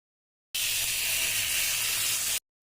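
Beef and butter-coated onion rings sizzle hard on a hot tawa, a steady, loud, unbroken frying hiss lasting about two seconds with nothing else over it.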